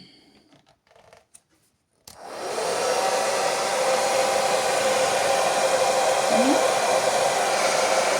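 A Philips BHD342/10 Series 3000 hair dryer is switched on after a few faint handling clicks, then blows with a steady, loud, broadband rushing whir that holds constant to the end.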